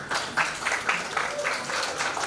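Wedding guests applaud together in steady rhythmic claps, moderately loud and slightly distant, with voices mixed in beneath the clapping.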